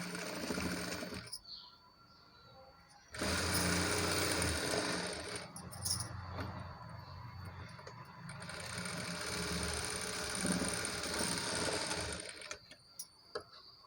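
A sewing machine runs in bursts of fast, steady stitching with short pauses, close and mechanical, while joining the front and back parts of an umbrella frock made from a saree.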